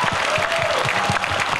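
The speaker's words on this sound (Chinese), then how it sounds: "大家是不是帮赖清德副总统一个掌声？" Applause for Taiwan's Vice President Lai Ching-te at a live talk-show event, a crowd clapping steadily and close for the whole short stretch, without speech.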